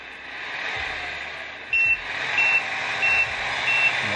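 Reversing beeps from a Tamiya MFC-03 sound unit in an RC truck put in reverse gear: a few short, evenly spaced electronic beeps over a steady engine-sound hum, close by.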